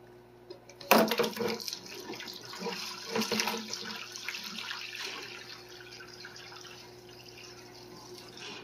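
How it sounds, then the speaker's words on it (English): Water being siphoned out of a 75-gallon aquarium through a weighted hose, with a burst of splashing and gurgling flow that starts abruptly, then settles into a steady trickle and drip. "I got a weight on here, so I just siphon this"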